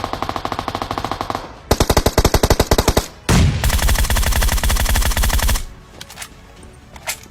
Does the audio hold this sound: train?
no